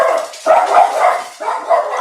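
A dog barks repeatedly at someone at the door, with loud, close bursts coming in uneven clusters and no talk over them.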